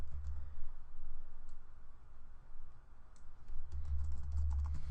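Computer keyboard typing, a steady patter of light, quick key clicks at close range over a low background hum, with no talking.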